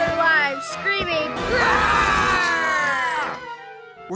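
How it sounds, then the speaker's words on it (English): Townspeople scream in panic as they flee, a wavering high crowd cry rising and sustained for a couple of seconds between shorter shouts. "Townspeople flee for their lives, screaming."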